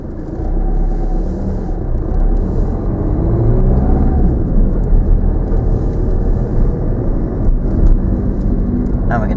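A car engine idles and runs steadily during a driving lesson, a continuous low rumble filling the whole stretch, loud and close from inside the vehicle.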